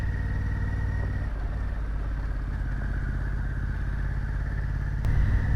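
A motorcycle with an Akrapovic exhaust rumbles steadily at low revs, a deep throaty exhaust note close by, with a slight clatter near the end.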